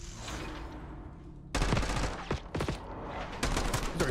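Black Ops 6 multiplayer gunfire: a quiet, muffled stretch gives way to sudden loud bursts of rapid shots, with several sharp volleys close by.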